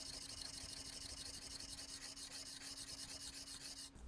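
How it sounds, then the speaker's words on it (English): A brand-new steel chisel is rubbed back and forth on 80 grit sandpaper, a continuous gritty rasping scrape with a steady rhythmic pulse that stops abruptly at the end. "this is working faster, so I'll keep using this 80 grit sandpaper."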